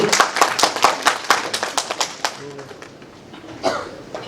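Applause ripples through the audience at a state-level felicitation ceremony, a run of loud, fairly rhythmic claps that gradually thins out, with a voice briefly heard near the end.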